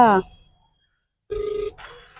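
A telephone rings after an office number is dialed, with a single electronic ring tone after a short silence, preceded by a brief bit of speech.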